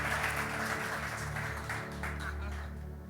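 A church congregation applauding after prayer for the pastors, a steady wash of clapping over a low background hum, fairly loud and continuous before gradually thinning out.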